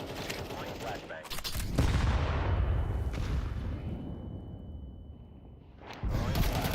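Grenade blast and gunfire in Counter-Strike 2: a loud burst of shots, then a heavy explosion rumbling and fading for several seconds before another crack of fire, with faint game voices mixed in.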